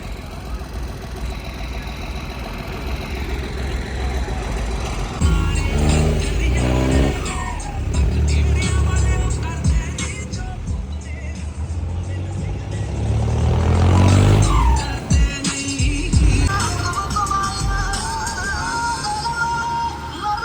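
A tractor engine runs loud and close amid a crowd at Sri Anandpur Sahib, a steady rumbling drone that swells and shifts in pitch, with faint voices now and then.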